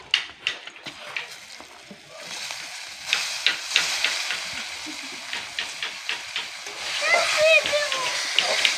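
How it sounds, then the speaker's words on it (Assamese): Potatoes frying and sizzling in a wok, with a steady hiss and clattering stirring strokes. The sizzle grows louder and splashier toward the end, and bursts of talk occur under it. "দুই মিনিট ভাজি লৈ কিনে মই আলুটো কেৰাহীত দি দিছোঁ"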